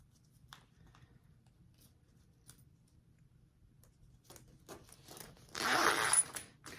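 Small metal clinks and light zipper rattles come as zipper pulls are attached to a sewn sling bag, sparse taps at first and then a louder burst of jingling and rustling near the end.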